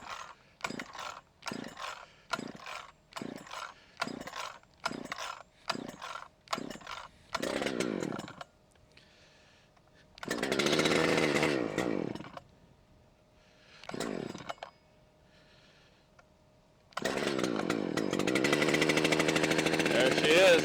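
Repeated quick pull-cord yanks on a newly fueled chainsaw-style engine, about eight short rhythmic pulls, then the engine sputters, catches and roars loudly, drops off, and restarts to a sustained close running drone.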